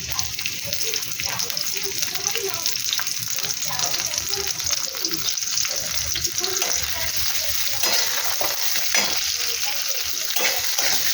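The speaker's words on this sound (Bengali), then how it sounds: "পেঁয়াজটা ভাজা হচ্ছে" Onions fry in oil in a pan, a steady, close crackling sizzle that runs unbroken, with small stirring scrapes and pops throughout.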